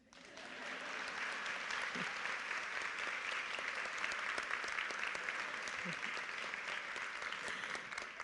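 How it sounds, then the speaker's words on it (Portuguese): Sustained audience applause at an educators' tribute event, steady, dense clapping throughout at moderate distance, with faint voices underneath. "E aí eu ia pedir aplausos."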